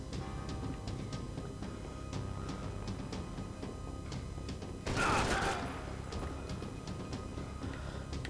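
Gunfire rattles through a Max Payne 3 firefight, a dense burst of shots in the middle over a busy background of distant rapid reports.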